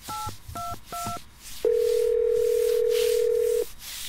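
Phone keypad dialing in the Roblox game: three quick dual-tone beeps, then a long, loud, steady tone, clear and alone with no talk.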